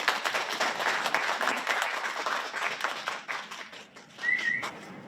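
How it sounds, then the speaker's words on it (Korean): An audience at an artists' fair-finance declaration ceremony applauds to welcome a National Assembly member, dense clapping that thins and swells again, with a short whistle near the end. "큰 박수로 모시겠습니다"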